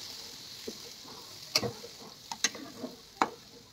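Afghani chicken gravy is stirred in a pan, with a few sharp scrapes and clicks of the spoon over a quiet, soft sizzle, close by and spaced irregularly, no voices.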